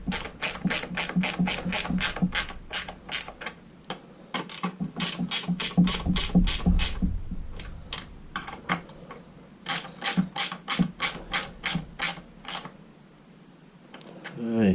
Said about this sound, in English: the 11mm spanner or socket just tightens them in place.